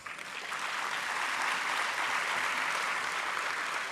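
Sustained applause from a school annual day audience honouring young swimmers, a dense steady clapping that swells in over the first half second and holds loud and even to the end.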